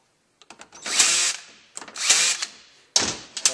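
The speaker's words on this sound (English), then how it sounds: "we're going to tighten these couple bolts that we had left loose before" A power tool tightens bolts on a Mitsubishi DSM shift kit plate in three short whirring bursts, each rising and cutting off, close up with brief pauses between.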